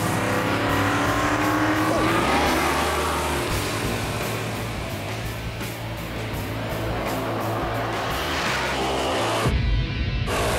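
Drag race cars at Bandimere Speedway, their engines roaring loudly and continuously as they launch and accelerate down the strip, the sound cutting off abruptly near the end.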